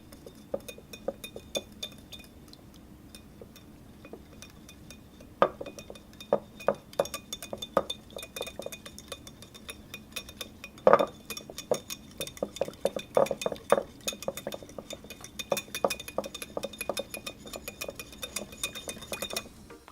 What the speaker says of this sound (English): About a tablespoon of raw honey, and about a tablespoon or so of sesame oil. Just gonna mix that up.